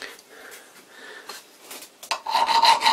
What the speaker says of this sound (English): if I do a file test